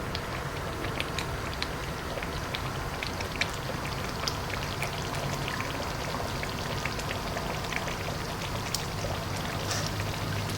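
Paneer kuruma gravy bubbles gently in a pan, giving a steady, dense crackle of small pops and sizzles that runs evenly throughout at moderate level with no talking.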